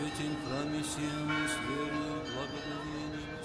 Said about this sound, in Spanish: Estas son campanadas ortodoxas.